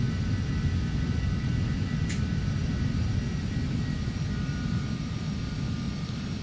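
Airliner jet engines hum at idle thrust on approach in a flight simulator, a steady broad roar with a faint high whine, continuous and even without talk.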